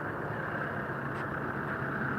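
A portable toilet truck's engine drones steadily as it passes through a residential neighbourhood where new homes are being built, a moderate, continuous engine hum heard on a morning walk with no talking.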